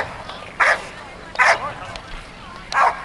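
A Belgian Malinois barks at a service dog trial, three sharp, loud barks spaced about a second apart against a quiet outdoor background.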